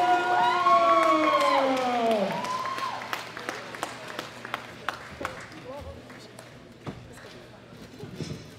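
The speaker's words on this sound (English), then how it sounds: "Big round of applause for the gold medal winner from the United States of America" Crowd applause at the World Classic Powerlifting Championships 2018 for a women's gold medal winner, starting under an announcer's voice with a tonal chime, then thinning into scattered claps and murmurs.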